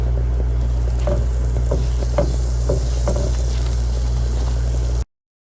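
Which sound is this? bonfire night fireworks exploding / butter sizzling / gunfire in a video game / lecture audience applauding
butter sizzling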